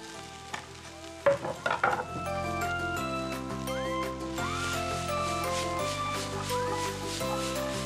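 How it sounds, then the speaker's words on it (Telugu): Potato pieces drop into a hot pan for a Mongolian chicken and noodle soup, with a short burst of clattering impacts followed by steady frying sizzle under continuous background music. "ఇలా వేసుకుందాం బంగాళదుంప"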